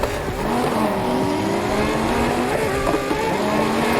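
Turbocharged car engine in the Need for Speed Heat racing game, loud and continuous, holding a steady rising tone across the clip with faint tire squeal and no talk.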